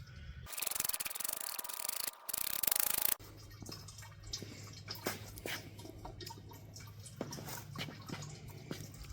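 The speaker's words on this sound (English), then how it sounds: "The tallow is nice and white and pure, and we're just going to scrape this off." Rendered beef tallow, set white on top of water, gets scraped from the pot surface: a loud harsh rasp at first, then softer scraping and wet squelching strokes over a low steady hum.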